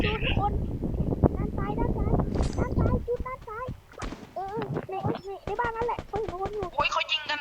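Rapid bursts of gunfire crackle through a Free Fire firefight, mixed with game effects, while a voice talks excitedly over the shooting.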